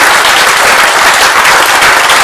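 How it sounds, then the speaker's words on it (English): Steady, dense applause from a live comedy audience fills the room, loud and continuous throughout with no voices over it. "Big round of applause, please, for John, for Steve,"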